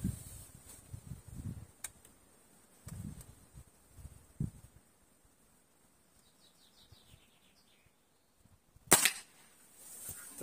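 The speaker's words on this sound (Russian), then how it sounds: "Так, ну и 5-й выстрел." One sharp, loud crack from a Hatsan 125 air rifle rings out near the end after quiet outdoor rustling, with faint birds chirping in the background.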